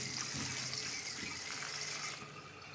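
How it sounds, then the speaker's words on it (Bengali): Red amaranth leaves are rinsed under a running kitchen tap, giving a steady close splash and gush of water that continues throughout without a break. "আমি শাকটাকে ভালো মতো ধুয়ে নিচ্ছি।"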